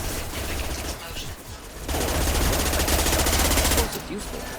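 Dense gunfire from the video game Mass Effect 2: loud, rapid bursts of shots that ease briefly, then resume heavier and sustained before tapering off.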